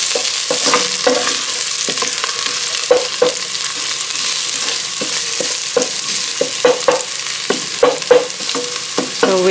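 Garlic frying in a pan for a chicken and coconut milk dish sizzles steadily and close, punctuated by sharp, irregular scraping clicks of stirring throughout.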